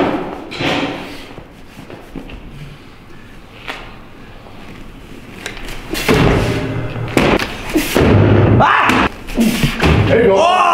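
A heavy bag thrown overhead during strongman weightlifting training in a gym lands with loud, deep thuds, several impacts in the second half of the clip over lighter movement noise.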